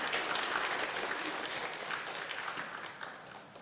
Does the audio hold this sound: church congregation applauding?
yes